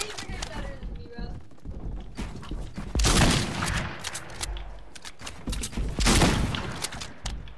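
Shotgun blasts in a Fortnite match, several loud broadband bursts scattered irregularly, with the heaviest around three and six seconds amid busy game noise and other thumps.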